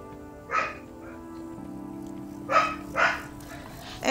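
A small dog barks in the game Kingdom: one sharp yap early, then two quick barks later and another at the very end, over a soft steady musical hum.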